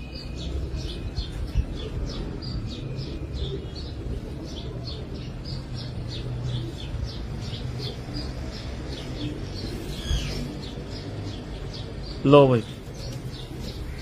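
Pigeons in an indoor breeding loft holding 72 pairs keep up a constant bed of high, rapid chirps and soft low cooing, with someone speaking briefly near the end.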